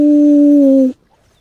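A wolf howl from the video game Legend of Ymir: one loud, steady, level-pitched howl lasting just under a second, then stopping abruptly into near silence.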